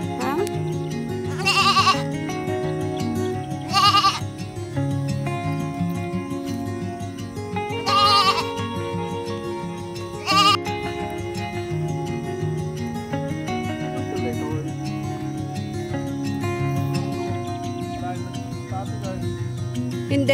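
Goats bleat in several short loud bursts spaced through a steady bed of music, on a small farm with a newly built pen for the animals.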